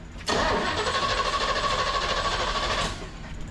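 A Big Block Chevy V8 bound for a 1972 C10 runs at a steady idle close by, a broad continuous rumble with a faint tonal whine and slight pulsing, holding level for about three seconds before easing off.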